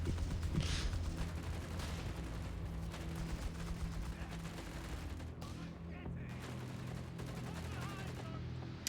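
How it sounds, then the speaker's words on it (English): Heavy machine gun team of British forces firing in Company of Heroes 3, a fairly faint, dense rattle of sustained gunfire with mechanical clatter, continuing steadily throughout in a distant battle mix. "Heavy machine gun team for the Brits"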